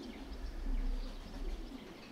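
Racing pigeons coo softly and steadily at a loft during a competition flight, a low murmuring close by with no talk over it.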